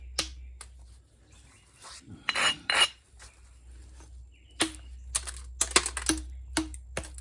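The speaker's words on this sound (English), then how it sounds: "I'm just lightly tapping down on it." Light tapping on a stone spall during flintknapping produces sparse, close, crisp clicks and small knocks at irregular intervals, with a brief scraping and rustling patch and no speech.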